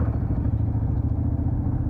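Motor vehicle passing on a road in Bicol behind a motorcycle rider, a steady close engine rumble and drone under wind noise, no talk.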